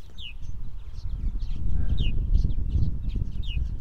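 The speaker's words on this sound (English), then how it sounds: "What are you chirping about there, mister?" A purple martin gives brief, high chirps at intervals over a low rumbling background.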